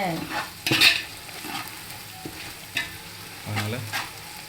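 Chilli powder is stir-fried in oil for prawn biryani, with a gentle continuous sizzle under repeated scrapes and knocks of a spoon against the pan, close and moderately loud.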